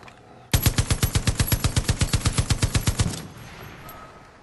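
A heavy machine gun in Far Cry 5 fires a loud, steady burst of about twenty evenly spaced shots over roughly two and a half seconds, then cuts off into quiet game ambience.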